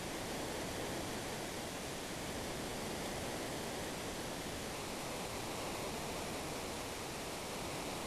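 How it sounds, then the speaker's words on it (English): Steady, broadband rushing roar of a big waterfall from the Final Fantasy VI game, at an even level for the whole stretch, with no voices over it. "we go down the big waterfall there"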